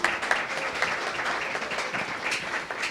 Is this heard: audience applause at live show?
yes